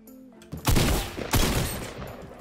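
Two heavy bursts of gunfire from a gun in the video game Fortnite ring out close and loud, each followed by a short fading tail.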